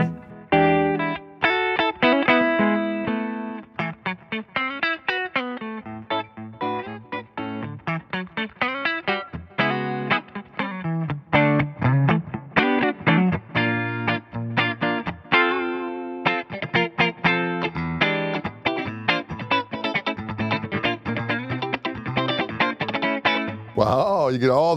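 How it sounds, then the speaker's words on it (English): Electric bass played through a bass contour tone control, melodic with a gritty, distorted tone, notes sliding and sustaining over a long passage with little pause. "that good old bass contour gives you a little extra chutzpah"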